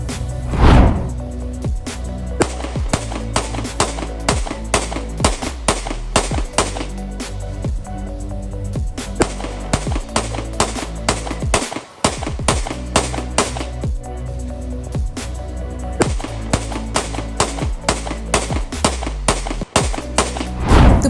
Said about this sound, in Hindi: किस तरीके से उनके कनाडा वाले घर के बाहर ताबड़तोड़ गोलियां नॉन स्टॉप फायरिंग हुई है